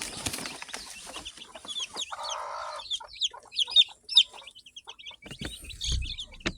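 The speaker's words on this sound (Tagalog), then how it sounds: "Mga sisiw." Pet chicks kept in a coop peep in high, close chirps, mixed with clucking from a hen and a few short rustling and thumping noises.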